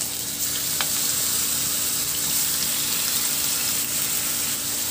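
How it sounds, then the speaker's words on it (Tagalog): A pork chop fries in a little hot oil in a pan, producing a loud, constant crackling sizzle that holds steady throughout with faint scattered spatters. "Maglagay ako ng kaunting mantika sa kawali at painitin. At saka iprito na natin yung ating pork chop."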